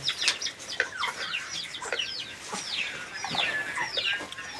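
Chicken clucking and rooster-like calls from farm fowl, a run of repeated bright squawks and clucks at close range, steady over a few seconds with no talk.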